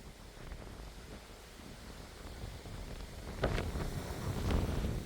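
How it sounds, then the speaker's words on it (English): Cold wind blows across a rocky mountaintop on the Appalachian Trail, a faint steady rush that grows into louder gusts buffeting the microphone toward the end. "Very cold wind."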